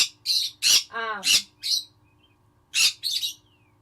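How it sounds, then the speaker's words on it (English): Bird squawks and chirps play from videos on a TV indoors, several sharp calls and a short rattling trill in quick bursts, then a pause before two more squawks. "I got bird videos playing over here on the TV"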